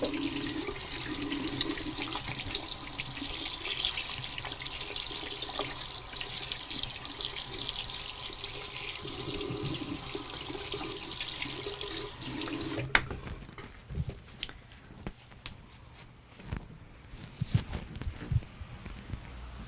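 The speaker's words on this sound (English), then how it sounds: "you have to hear the water run" A sink tap runs steadily at close range as paint is washed off hands, a constant rushing stream that shuts off partway through, leaving faint drips and small knocks.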